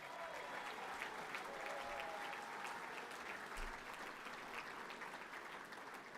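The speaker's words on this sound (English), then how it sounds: "From our Spirit of Carlton committee, a round of applause for club legends Shane O'Sullivan, Jeff Southby and David Ree" Sustained applause from a luncheon audience at a Carlton football club premiership reunion, steady dense clapping filling the room at moderate level for several seconds with a faint whistle or tone briefly audible.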